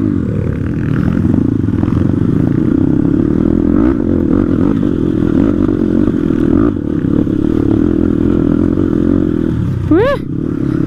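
A Crossfire RM 250 dirt bike rides off-road on the way to Chisapani. Its engine drones steadily and loudly up close with rattles and clatter, and a voice briefly cuts in near the end.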